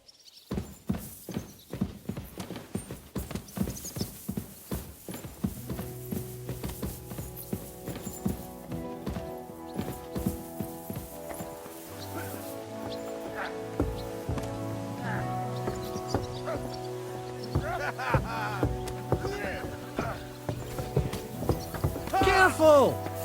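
Horse hooves clip-clop in Kingdom Come Deliverance 2, a slow rhythmic series of close, distinct steps with voices talking over them and a snort or whinny near the end.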